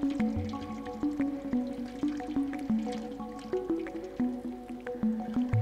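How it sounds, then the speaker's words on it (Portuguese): A cat laps water in the Stray video game, a steady series of soft wet drips and squishy licks repeating about twice a second over a faint background hum. "Tá bom, beleza, já bebeu muita água."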